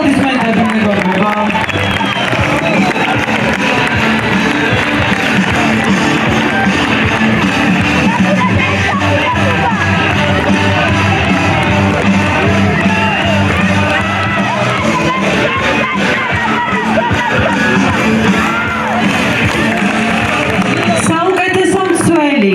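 A crowd at a school football league final keeps up a loud, steady roar of cheering and clapping for over twenty seconds. An announcer's voice and yells are mixed into the noise.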